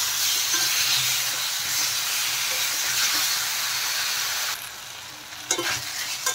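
Potatoes and eggplant being sautéed in spice paste in a pan, a loud continuous hiss of frying that quiets near the end, broken by a few scraping stirs.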